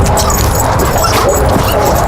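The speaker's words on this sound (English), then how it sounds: "I think Runn wants to play with that little dog" A small dog whimpers and yips excitedly, a continuous close, loud run of whines and short high cries with no pauses.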